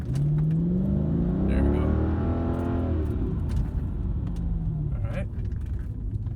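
Mercedes C55 AMG W203 accelerating hard with the pedal floored, engine note rising steadily in pitch as revs climb, loud and close, with a person speaking briefly over it.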